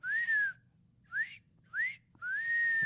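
A person whistles an imitation of eerie whistling heard up in the trees at night, four rising and gliding notes with pauses between, clear and close.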